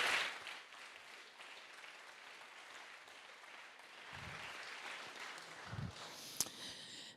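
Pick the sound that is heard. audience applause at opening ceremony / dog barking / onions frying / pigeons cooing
audience applause at opening ceremony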